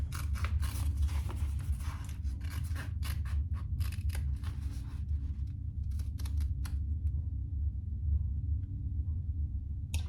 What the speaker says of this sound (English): It really makes a difference if you have a pair of very sharp scissors.